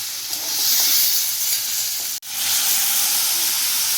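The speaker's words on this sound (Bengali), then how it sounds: "আবারও নাড়াচাড়া করে নিচ্ছি" Spices and salt frying in a pan for a papaya curry, heard as a steady bright sizzling hiss with faint stirring, close and loud, broken once by a brief sharp dropout midway, no voices.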